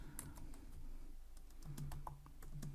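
Quick, quiet clicking of a computer keyboard as code is typed, irregular key taps close by with no voices.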